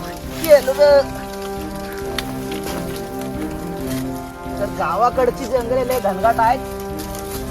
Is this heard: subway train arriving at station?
no